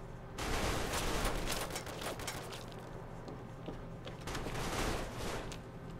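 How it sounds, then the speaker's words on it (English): Automatic turret gunfire in Fallout 3, a dense continuous burst of rapid shots that swells again near the end, loud and alone with no talk. "That is a turret."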